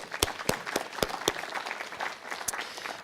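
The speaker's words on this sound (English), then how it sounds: "give them a round of applause" Audience applause at a fire-rescue paramedic pinning ceremony, a thin scatter of separate claps at moderate distance, fairly sparse and quiet.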